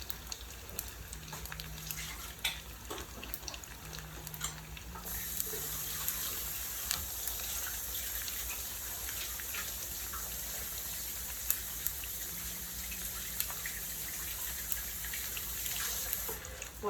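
Water pours and runs into a kitchen sink, with a steady rushing hiss that swells louder midway, joined by faint dripping and a low hum.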